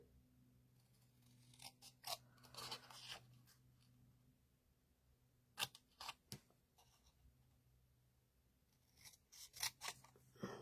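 Scissors trim around a small scrap of smoky slate card in short, close snipping bursts separated by pauses, quiet overall with no talking.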